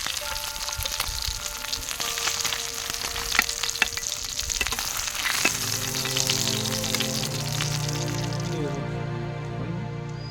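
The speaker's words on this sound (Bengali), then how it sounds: "লম্বা পাবদা মাছ ভাজা কমপ্লিট, তুলে নিচ্ছি" Long pabda fish, salted without turmeric, frying in hot oil and then being lifted out, a loud continuous close sizzle with crackles and scraping, and the tone changes partway through as the fish come out. No one speaks.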